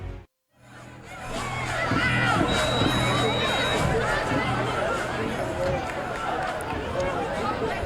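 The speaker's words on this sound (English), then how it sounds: "This big crowd here at Wilkes Barre area has seen a good one to this point." Crowd at a Wilkes-Barre Area high school football game between Dallas and Wilkes-Barre: a steady, loud hubbub of chatter and shouting that swells after a brief dip near the start and holds on.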